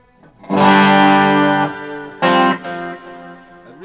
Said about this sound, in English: really love the T-Rex for the subtle roll-off that it has on the delays